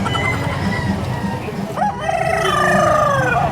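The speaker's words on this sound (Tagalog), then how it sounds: "Yung tilaok niya parang nagmumumog." A rooster crows loudly nearby, a long rising then wavering, gargling call over a busy background of clucking and farmyard noise.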